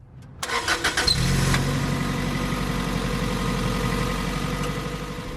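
A 2002 Toyota MR2 Spyder's 1.8 liter 1ZZ engine cranks and starts, revving briefly, then settles into a steady, close idle hum.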